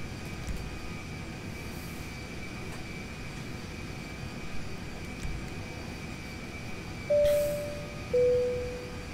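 An airplane in GTA5 rumbles in a low, even engine drone before takeoff, with two short tonal beeps near the end over the steady roar.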